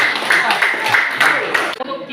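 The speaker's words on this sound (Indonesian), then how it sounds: "Tepuk tangan untuk kita semua." Classroom applause as a teacher invites everyone in the class to clap, a dense burst of many hands lasting under two seconds before stopping abruptly, with talking around it.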